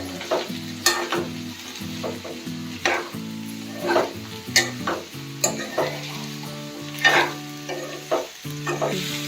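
Peas and soybeans fry in a pan for pulao, a continuous sizzle broken by repeated rhythmic scrapes and knocks of a spoon stirring, close and fairly loud with no talking.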